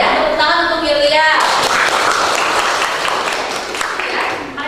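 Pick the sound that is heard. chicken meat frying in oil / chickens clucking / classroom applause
classroom applause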